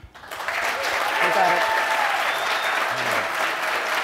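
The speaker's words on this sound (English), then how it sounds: "Applause for the against team." An audience at a video industry debate summit claps for one debating team, the applause rising quickly from near silence into a dense, steady roar that holds to the end.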